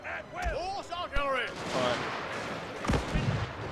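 Infantry square firing volleys in the Total War video game, set at Isandlwana in the Anglo-Zulu War, heard as sharp gunshot cracks and rolling musket fire over a dense battle din with voices and shouting throughout.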